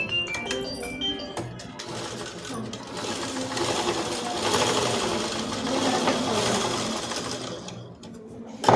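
A sewing machine stitches a school dress in a tailoring lesson, its rapid mechanical chatter running close and steady with short pauses, while a voice speaks alongside.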